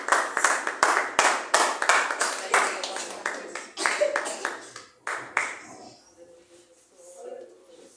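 A church congregation claps in rhythm, a run of sharp, loud handclaps for about five seconds that thins out and fades, with a voice faintly heard beneath.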